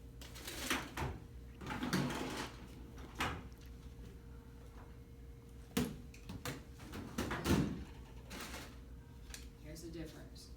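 Rummaging through a drawer during an anaesthesia exam, with several sharp knocks and rattles of objects being moved, interspersed with quieter shuffling, close by.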